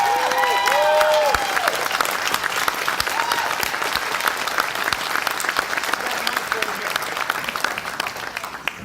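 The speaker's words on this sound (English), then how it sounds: "please, another big round of applause for our dear Judy Burns" An audience at a fan convention panel screening gives a sustained round of applause, dense steady clapping filling the room from start to finish, with a brief voice near the beginning.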